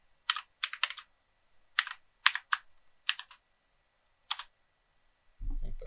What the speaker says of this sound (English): Hopefully I type it right.